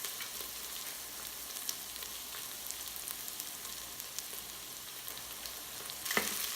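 Food sizzles and caramelizes in an Instant Pot while making green curry chicken, a soft continuous hiss with faint crackles, then a brief louder stir or scrape near the end; no one speaks.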